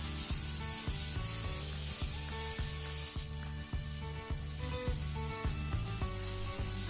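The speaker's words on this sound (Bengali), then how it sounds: "আলুগুলোকে লাল লাল করে ভেজে নিয়েছি" Diced potatoes with salt and turmeric powder sizzle and fry steadily in hot oil, a continuous close crackle with a faint regular ticking running beneath it and no voices.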